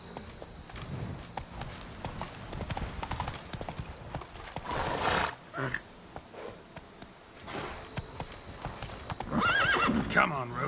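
Roach the horse galloping in The Witcher 3, a busy run of clip-clopping hoofbeats with a neigh rising near the end, while a voice talks over parts of it.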